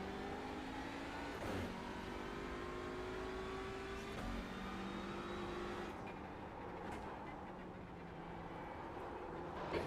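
A race car engine in the sim-racing game iRacing drones steadily through the whole stretch, its pitch rising and dropping through gear changes, fairly quiet and even with no talk over it.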